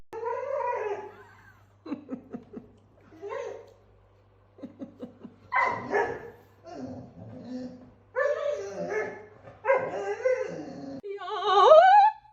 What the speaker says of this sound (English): This dog wants its bone back.